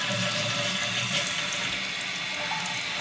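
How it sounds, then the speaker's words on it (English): A toilet flushes after its flush lever has been replaced, a steady, loud rush of water pouring and swirling close by with no break and no voices. "So it'll flush."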